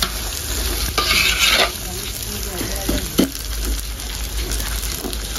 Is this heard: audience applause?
no